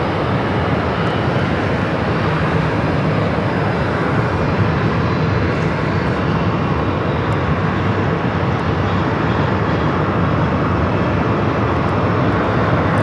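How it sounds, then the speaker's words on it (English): Jet airliners taxiing and lined up at Phoenix Sky Harbor airport, heard as a loud, steady broadband engine roar that holds without a break across the whole stretch, with no voices over it. "So we got planes lined up coming from the north side."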